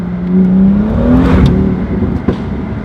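BMW M2 engine pulling hard in second gear, a loud close rising engine note that climbs in pitch, then a brief shift break and a sharp pop.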